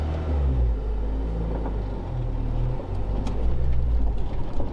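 A B18C-swapped EK Honda Civic with a fresh Hondata S300 install drives along, giving a steady, close engine rumble that swells slightly toward the end, with no talking.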